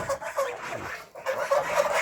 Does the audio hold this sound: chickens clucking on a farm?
yes